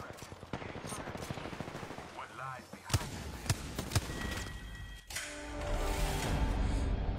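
Gunfire in the shooter game Apex Legends: sharp bursts and single shots crack out in the middle stretch, mixed with game effects and a continuous noisy backdrop.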